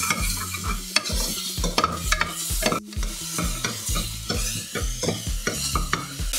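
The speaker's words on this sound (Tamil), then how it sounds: "நம்ம கட் பண்ணியிருந்த வெங்காயத்தை இப்போ போட்டிருக்கோம். எல்லாம் சேர்த்து ஒரு நிமிஷம் வரைக்கும் நம்ம ஃப்ரை பண்ணிக்கலாம்." Chopped onions with kasuri methi fry in a pan for dal khichdi, a utensil stirring and scraping in quick, repeated strokes over a constant sizzle, close and fairly loud with no voice.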